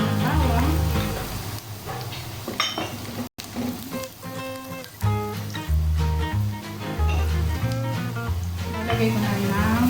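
Garlic sizzles and fries steadily in a pan for a simple macaroni spaghetti, with stirring clinks, loud and close, while music plays throughout.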